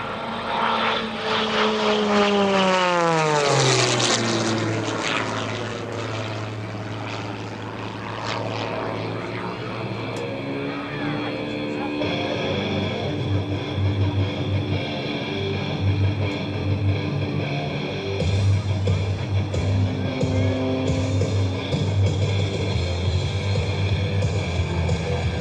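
Aerobatic propeller airplane performing at a 2024 county airshow, its engine roaring loudly with pitch sweeping up and down as it passes and maneuvers, then settling into a sustained drone.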